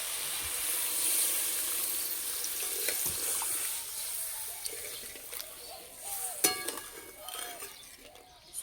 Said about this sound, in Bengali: আলু সিদ্ধ হওয়ার জন্য জল দিয়ে দেবো।